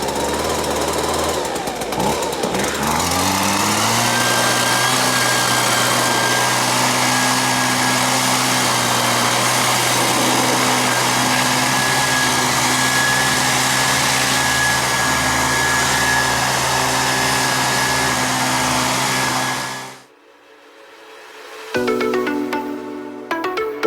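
Salvaged leaf blower roaring loudly and steadily at close range for about twenty seconds while blowing off and drying a Southern reel mower, then cutting out abruptly before a brief restart at the end.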